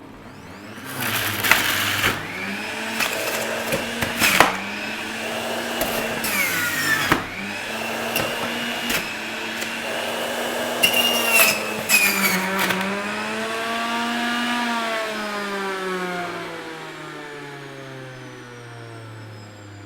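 A Sage Nutri Juicer Pro centrifugal juicer loudly whines and grinds as it shreds cucumber, celery, ginger and lemon, its pitch wavering under the load, then the motor winds down in a long falling tone to a stop.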